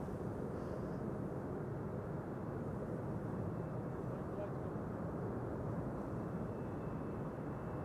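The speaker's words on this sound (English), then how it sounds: "KLM flight 1020 arriving from Leeds." A KLM airliner arriving at Amsterdam Schiphol Airport on a frosty, sunny day, heard as a steady, loud broadband roar of jet engines that holds constant throughout with no clear build or fade.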